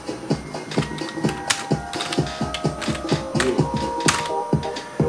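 Fingers type a comment on a computer keyboard, producing a quick, uneven run of close, crisp key clicks with brief pauses between bursts.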